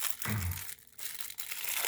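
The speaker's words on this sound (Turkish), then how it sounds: "Poşetini açıyoruz." Crinkly plastic rustles and crackles up close in short bursts as a surprise egg's plastic toy bag is pulled open.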